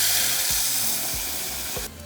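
Steady loud sizzling of chile relleno casserole sauce frying in hot oil, with a few soft scraping stirs and a brief drop in intensity near the end.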